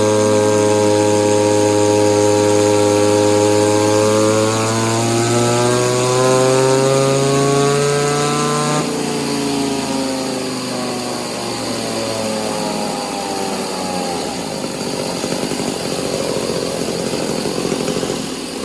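An Echo 2511 clone chainsaw engine with an exhaust mod and more timing screams through a dyno pull, its pitch climbing steadily before cutting to a rougher, lower drone; loud and close, no talking.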